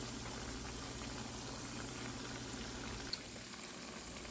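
Salmon patties frying in oil on medium-high heat, giving a steady, even crackle and bubble throughout with one brief tap near the end.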